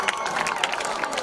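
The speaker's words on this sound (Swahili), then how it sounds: "tumkaribishe kwa makofi, tumkaribishe kwa makofi." Audience applause welcoming a speaker at a Garissa youth event: brisk, dense clapping from a crowd, steady and fairly loud throughout the short moment.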